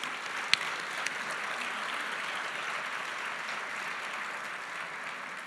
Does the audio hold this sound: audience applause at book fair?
yes